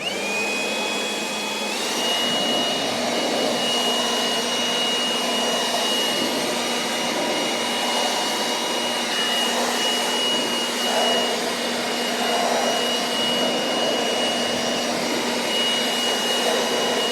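Blower running steadily during a September honey harvest at a beehive, a loud continuous whooshing roar with a constant high whine, blowing dirt for about seventeen seconds without talk.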